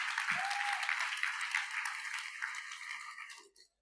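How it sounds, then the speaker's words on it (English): Audience applause at an annual celebration and awards ceremony as the foundation's founder and chairman is welcomed on stage: dense, steady clapping from a crowded hall that thins and stops near the end. "Please, let's keep clapping, let's keep clapping."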